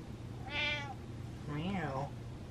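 A pet cat meows twice, close and clear, with a short pause between the two rising-and-falling calls over a faint room hum.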